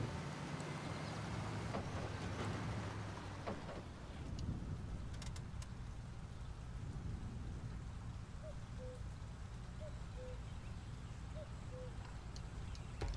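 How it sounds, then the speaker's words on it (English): Steady, fairly faint rain hiss throughout from the video game Snowrunner, a continuous broadband wash with no voices and a few soft chirp-like blips partway through. "Actually haven't played Snowrunner much where I've actually seen it rain in game."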